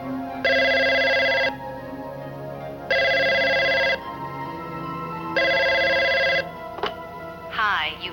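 A telephone rings on an international call to the States, three evenly spaced electronic ring bursts with quiet gaps between them, followed by a faint click and a short voice at the end.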